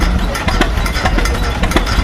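John Deere tractors idle and chug in a slow tractor race at a John Deere expo in New York, with a steady low engine rumble and regular knocking pulses, close and loud.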